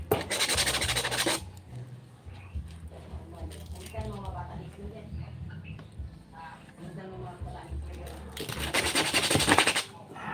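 Cheap sandpaper rubbed along the edge of a fabricated art piece in a workshop, a close scratchy rasping that runs throughout, loudest at the start and end, with someone talking partway through.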